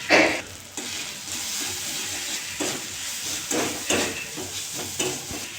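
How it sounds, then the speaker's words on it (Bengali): Spiced paneer and potato mixture frying in a pan, stirred with scraping strokes over a steady sizzle and hiss, fairly quiet with a sharper clatter at the start, no talk. "এটা নেড়ে চেড়ে নেব।"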